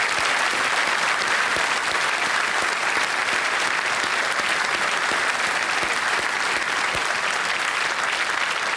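Studio audience applauding on a Hindi television quiz show set, a dense, steady wash of clapping that stays loud and continuous from start to finish with no voices above it.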